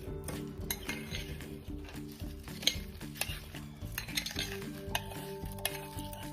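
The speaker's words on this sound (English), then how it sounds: "Just kind of stir it up in there and get them kind of candied a little bit with the brown sugar" Sweet potatoes being stirred with brown sugar in a pan, with steady scraping and clinking of a utensil against cookware over a soft background sizzle, close and moderately loud throughout.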